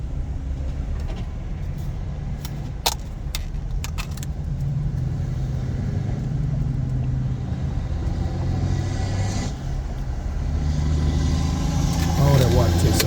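Road traffic heard from inside a moving car among trucks, a steady low engine and road rumble with occasional rattles and clicks, someone talking over it.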